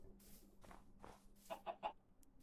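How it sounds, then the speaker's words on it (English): Chickens in the video game Minecraft cluck softly in a few short, separate calls, faint and close, with no talk over them. "Oh, another group of chickens."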